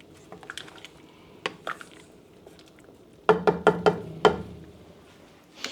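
A spoon folds dill and cream into a Finnish salmon soup in a pot on a wood-fired range, giving soft scrapes and then a quick run of five or six ringing metallic clinks against the pot.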